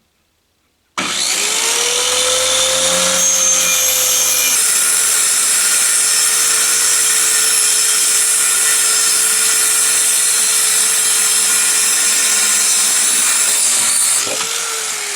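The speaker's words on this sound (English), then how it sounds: "Just going to cut it with a cheap circular saw" Inexpensive circular saw ripping through 3/4 inch plywood along a clamped 2x4 guide: a loud, continuous high whine that spins up, holds steady for about thirteen seconds of cutting, then winds down alone with no talk.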